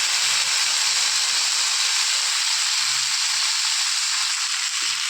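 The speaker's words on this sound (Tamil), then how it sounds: "காஞ்சதுக்கப்புறம் இந்த கடுகு போட்டுடலாம்." Mustard seeds sizzle in a hot pan, a loud, steady frying hiss up close that runs without a break and with no talk.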